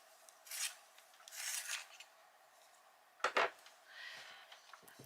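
A cream colouring pencil being sharpened, a few short bursts of dry rasping twists close by, separated by pauses, with small taps and clicks at the end.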